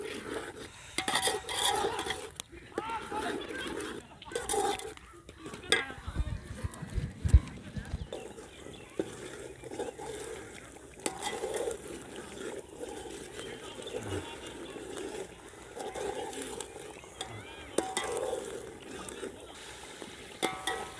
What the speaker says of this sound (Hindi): मिक्स गरम मसाला, इसको अच्छी तरह मैंने भून लेना है।